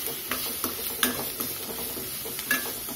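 Onions and curry leaves sauté in a pan for vegetable Maggi noodles, a light background sizzle broken by a series of quick, regular stirring scrapes and taps of a spoon against the pan.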